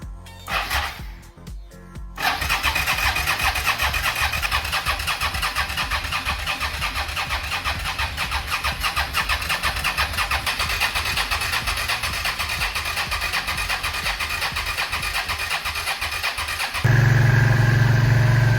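A Suzuki SV650 motorcycle engine, just jump-started after a choke and clutch-in start, cranks and catches in the first seconds, then runs steady and loud, revving slightly toward the end.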